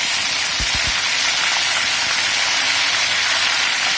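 Curry leaves and ginger garlic paste hit hot oil in a loud, dense, continuous sizzle and hiss, with a few low thumps near the start and no talking.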